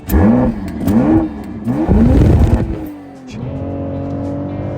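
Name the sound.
BMW X3 M50 engine accelerating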